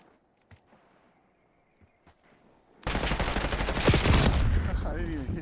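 Gunfire in Call of Duty Black Ops 6 erupts after a quiet stretch of faint footsteps, a loud dense burst of rapid shots lasting a couple of seconds.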